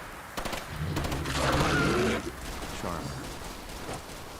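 Gunfire in the video game Fallout 4, burst after burst in rapid, rattling volleys, with a heavier boom-like swell in the middle, heard at moderate distance over a continuous mix of game sound and voice.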